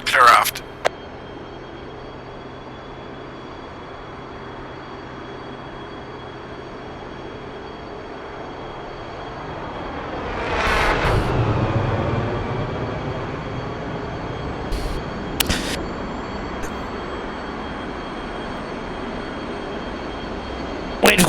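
An F-16C jet engine spools up in a flight simulator, a rising whine and roar swelling near the middle after a quiet stretch, with brief clicks and a voice at the start.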